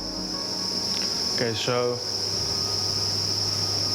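Crickets chirp in a steady high trill inside a crate on a cricket farm, a continuous insect drone running throughout while a voice briefly speaks over it.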